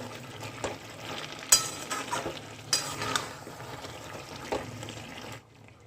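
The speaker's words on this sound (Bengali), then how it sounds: "একটু এভাবে করে আমি দু থেকে তিন মিনিট নেড়ে নেব যাতে মশলার কাঁচা গন্ধটা না থাকে" Spices being stirred and fried in a pan for a spinach chachchari: a steady crackling sizzle with scraping stir strokes, several sharper clinks of the spatula, fairly close, with no talking, ending abruptly.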